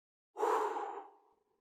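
A single deep breath out during a guided relaxation exercise: a soft, breathy exhale that swells quickly, then fades over about a second, close and alone.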